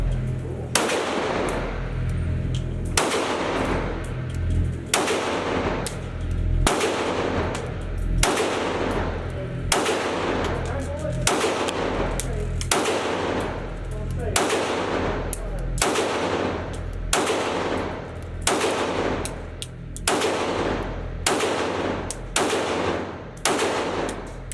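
Sharp, loud pistol shots from a Ruger 5.7 at an outdoor range, fired one at a time at an irregular pace, each crack followed by a short echo.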